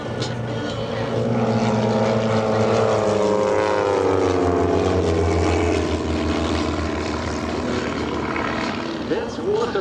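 Team Redline aerobatic airplanes flying the mirror pass at an airshow, a loud sustained propeller engine drone that shifts in pitch as they pass, with an announcer talking over it.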